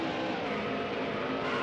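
A NASCAR race car engine in the NASCAR Heat Evolution video game drones loudly and steadily as the car heads toward pit road, with a continuous roar and no talk.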